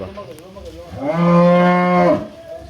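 A large Holstein Friesian dairy cow lets out a single loud, drawn-out moo lasting about a second, close to the microphone, with a quiet farmyard around it.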